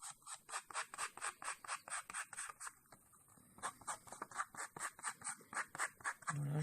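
A purple ink pad rubbed repeatedly along the edges of a handmade card makes quick rhythmic scraping strokes, close and crisp, with a brief pause midway before the rubbing resumes, no talking.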